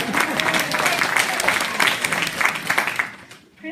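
An audience claps for a speaker being introduced at a community event, a steady burst of applause that fades out near the end, with a voice faintly audible beneath.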